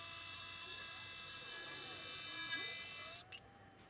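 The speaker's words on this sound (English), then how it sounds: "Using my jigsaw for this." A jigsaw cuts through wood with a steady high-pitched buzzing drone that runs for about three seconds, then stops abruptly with a brief clatter.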